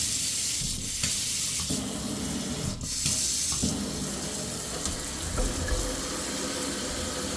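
Water runs steadily from a newly installed kitchen tap into a sink, a continuous close splashing hiss that fills the whole stretch with no talking.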